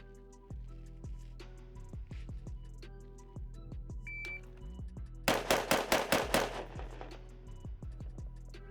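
A rapid string of six loud test shots from a Fightlite SCR rifle cracks out together, each report sharp and close. Quieter metallic clicks and handling noises from the rifle come before and after the burst.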